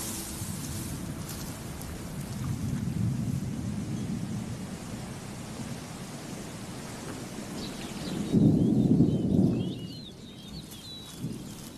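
A steady wash of heavy rain with low rumbles of thunder rolling underneath, swelling louder near the end, with faint bird chirps.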